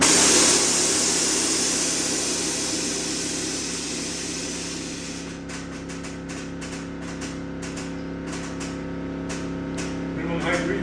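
Air suspension on a Veilside RX7 vents with a loud rushing hiss that fades over about five seconds. Steady engine hum continues underneath, followed by a run of sharp clicks.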